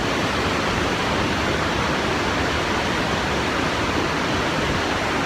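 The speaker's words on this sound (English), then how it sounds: "You can hear the crashing of the water." Steady, loud roar of water crashing down Kuang Si waterfall in Laos, a dense continuous wash of noise with no breaks and no voices.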